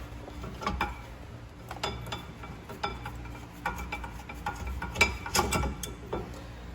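A ratchet loosens a rear brake bolt on a Fiat 500 Abarth, giving a steady run of close, quick metallic clicks with short pauses and faint handling knocks.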